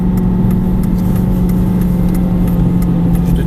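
A car engine hums at a steady mid pitch close by, with road noise and light ticking, building as the vehicle pulls away and accelerates along the road; no one speaks.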